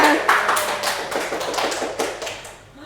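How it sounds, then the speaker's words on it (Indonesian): A classroom of students applauds during a maths microteaching lesson, a dense, steady patter of many hands clapping close by that slowly fades toward the end. "Tepuk tangan semuanya."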